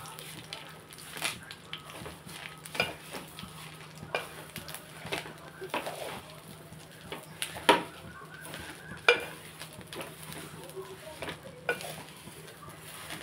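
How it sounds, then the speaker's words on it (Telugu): Curry leaves fry in a little oil in a pan on low heat, with a soft steady sizzle and occasional scraping and stirring clinks. "కొంచెం ఆయిల్ వేసుకుని నేను వేపుకోవాలండి"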